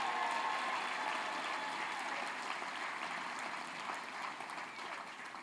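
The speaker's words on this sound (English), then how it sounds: "Give yourselves a round of applause." Audience applause at a government event marking World AIDS Day, a fairly faint, even, sustained clapping from a crowd heard at some distance, with no speech.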